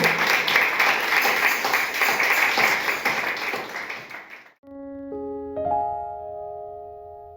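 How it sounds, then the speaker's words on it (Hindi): A Sunday church congregation claps loudly and together for about four and a half seconds. The applause cuts off abruptly and sustained organ or keyboard tones take over. "आइए जोरदार तालियों का साथ देंगे यीशु मसीह के लिए।"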